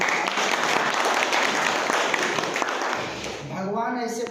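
Loud, sustained applause from a crowd at a lac farming training event, a dense wash of clapping that fades near the end as a voice starts speaking over it.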